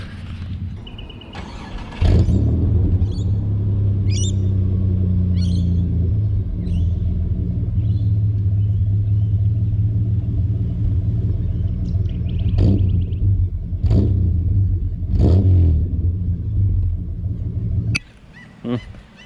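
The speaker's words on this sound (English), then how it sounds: "I guess I can do a little exhaust clip, even though it's not a 5 litre." Stock exhaust of a Holden VP Commodore, not the 5-litre V8, rumbling steadily at idle close by, with several sharp revs blipping up before it settles and cuts off near the end.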